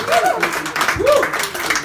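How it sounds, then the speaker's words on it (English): Brief applause from a comedy club audience rises under the room's chatter, with voices and a whoop or two heard over the clapping. "Big round of applause for him."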